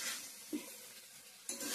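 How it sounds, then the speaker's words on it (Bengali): Ground spices, chilli powder, cumin powder and coriander powder fry in a pan of oil in a home kitchen, giving a steady close sizzle with a brief stirring scrape midway and a louder burst near the end. "ভালো করে ভাজা ভাজা করে নিচ্ছি"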